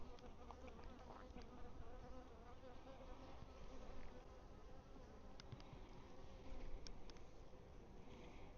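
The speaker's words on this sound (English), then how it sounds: "The bees are active." Bees buzz around an active hive during a mid-morning inspection, a faint, continuous droning hum with individual insects passing close now and then, no voices.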